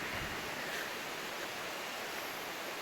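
Air terjun 7 Bidadari, a waterfall deep in the North Aceh jungle, gives a soft, distant, steady hiss of falling water, faint and unbroken for a few seconds.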